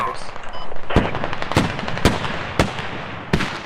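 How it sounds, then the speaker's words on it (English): Mortar shells burst in a multiplayer shooter match, five sharp, loud explosions at irregular intervals over a steady background of battlefield noise and faint voices. "Mortar's coming in."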